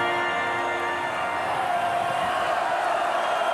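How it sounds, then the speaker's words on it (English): A large wrestling crowd roars inside the London Arena in the Docklands, a steady, loud wash of cheering and crowd noise with no breaks, swelling slightly toward the end. "what a tremendous crowd we have in the London Arena"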